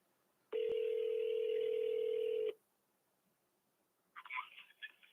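A telephone on speakerphone during a call-in session makes a steady two-second tone, followed after a pause by brief faint dialing or ringback sounds, with no talking.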